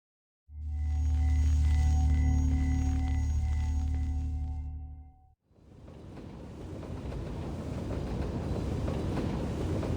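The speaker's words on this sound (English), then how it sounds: "The train pushes west, weaving across snowy fields as it follows the path of the Danube" A train in a fantasy role-playing game rumbles along with a heavy steady drone and tonal hum, then shifts to a hissing, rattling roar of moving carriages for the rest of the run.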